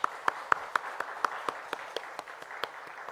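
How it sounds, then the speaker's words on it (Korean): Church congregation claps in thanks for the choir, a sparse, fairly rhythmic applause of individual claps that fades out within a few seconds. "우리 찬양대를 위해서 한번 감사의 박수 한번 하겠습니다"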